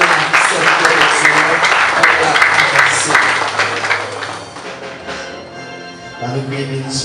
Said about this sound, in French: On nous applaudit la présence de l'Esprit de Dieu dans la vie